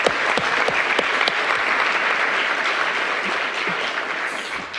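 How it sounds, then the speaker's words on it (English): An audience applauds panelists after a discussion on educational disparities in Wisconsin, a loud, dense, sustained clapping with a few sharper claps standing out near the start. "please acknowledge them once again with your round of applause"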